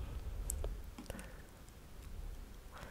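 Computer mouse clicks, a few quick faint clicks against quiet room tone with no talking.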